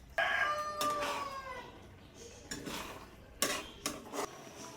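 Spoon stirring coconut milk in a cooking pot of stingray simmered with vinegar, giving scattered scraping clinks and knocks, while a rooster crows in the background at the start.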